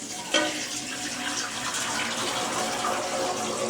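Water pours steadily into a 20-quart stainless steel cooking pot, a continuous close splashing gush after a brief louder onset, with no voices.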